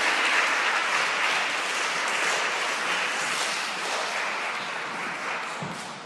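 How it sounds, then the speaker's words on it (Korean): Church congregation applauding in a steady, dense wash of clapping that holds for several seconds and tapers slightly at the end, with no voices over it. "우리 박수로."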